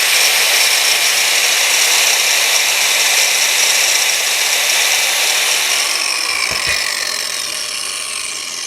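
Hitachi angle grinder spinning at speed, a steady, loud high-pitched whine with broadband hiss that holds for most of the clip, a brief low clunk near the end as the tone begins to ease off.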